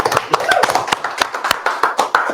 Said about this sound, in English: That also deserves a clap, yes?